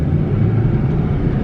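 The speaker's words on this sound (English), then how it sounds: "there's his Escalade" A Cadillac Escalade SUV drives up nearby, its low engine rumble steady and fairly loud over a brief moment.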